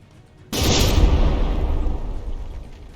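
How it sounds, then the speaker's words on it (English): A seeking mortar barrage firing in the naval battle game From the Depths, a sudden heavy boom that rolls into a long, rumbling roar and slowly fades, with no voice over it. "Launching its Seeking Mortar Barrage."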